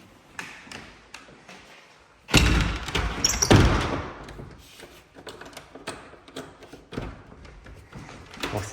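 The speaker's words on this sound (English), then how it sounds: "Let's lock this door." A business door being shut and locked after an attempted break-in: a loud burst of clunks and rattles mid-clip, then scattered light taps and clicks, close by with no talk.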